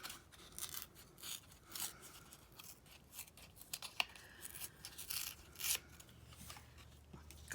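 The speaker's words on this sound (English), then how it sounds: "I'm going to kind of tear around this other bit to kind of follow that little pattern" A journal page is torn by hand around its edge in a quiet room, giving short rasping rips in uneven bursts with small pauses between them, close and fairly soft, and no one speaking.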